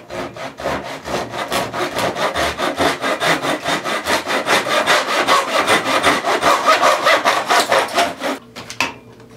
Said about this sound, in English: I have a pullback crosscut saw, but you can use a hacksaw, anything with fine teeth